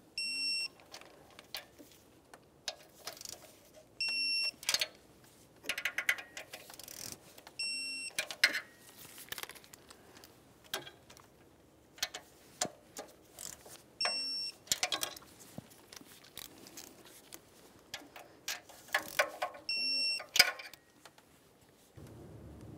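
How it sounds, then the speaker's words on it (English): Torque wrench tightening exhaust manifold bolts on a 2012-2018 Nissan, with short clicks and tool sounds in bursts, periodic electronic beeps and quiet pauses between, close and fairly faint. "we're going to torque them to 23 foot-pounds again"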